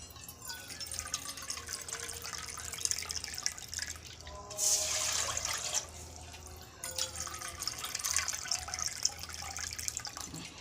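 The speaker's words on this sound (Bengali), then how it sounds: "দু বাটি জল দিয়ে দিলাম। জলটা গরম হোক।" Two bowls of water poured into a pot for semolina: a steady trickling stream with a louder gush midway, then more pouring and dripping, close and fairly quiet, no talk.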